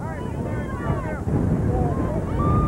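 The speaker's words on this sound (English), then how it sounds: "Extremely cold wind." Extremely cold wind buffets the microphone at an outdoor softball game, a steady low rumbling roar under a voice calling the play.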